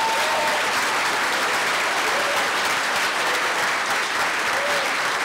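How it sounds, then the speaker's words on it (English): Audience applause fills a comics awards ceremony hall, a dense steady wash of many hands clapping throughout, loud and sustained with a little crowd murmur. "So, round of applause for everyone."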